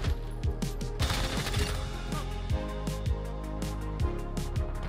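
Rapid gunfire in a shooter video game, sharp repeated shots in quick bursts with a steady rhythm, loud and close, no talking.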